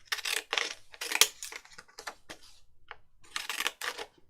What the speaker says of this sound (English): I'm going to take my Decoupage scissors and decal the edge